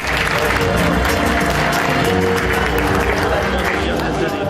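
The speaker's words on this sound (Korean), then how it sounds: "수고해 주신 우리 박종윤 동문님께도 큰 박수 한번 부탁드리겠습니다." A hall full of alumni at an architecture department's 40th-anniversary ceremony applauds, a loud, dense wash of clapping that holds steady throughout with crowd murmur mixed in.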